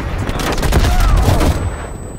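A thrown grenade detonates in Call of Duty Cold War multiplayer, a loud dense blast mixed with rattling gunfire that holds steady before tapering off.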